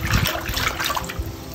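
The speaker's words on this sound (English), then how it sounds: "Keep agitating that water" Water sloshing and trickling in a tray during wet processing, agitated by hand to rinse off sprinkled material; a steady, close liquid swirl with soft splashes, continuous and moderately loud.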